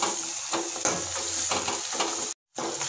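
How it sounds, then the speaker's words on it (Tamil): Onions sautéing in sesame oil over a high flame for chicken chukka, a steady close sizzle and frying hiss with soft stirring scrapes, cut by a brief silent gap near the end. "இப்போ ஹை ஃப்ளேமில் வச்சு வெங்காயத்தை வந்து ஒரு 2 minutes சாட்டே பண்ணிக்கலாம்"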